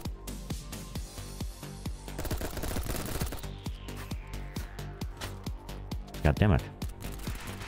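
Gunfire in the video game BattleBit: rapid, punchy automatic bursts crackle in quick succession, with a louder flurry near the end, and a voice briefly speaks between shots.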